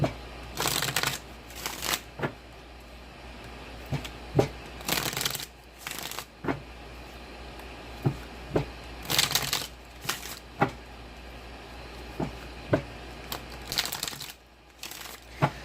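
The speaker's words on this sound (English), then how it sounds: "You know what I'm feeling as I'm shuffling the cards?" Tarot cards are shuffled in repeated crisp riffling bursts, with soft taps and rustles between them, close and fairly loud, with no talking.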